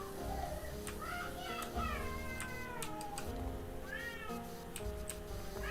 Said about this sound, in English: I do need them to listen to the kitty noises.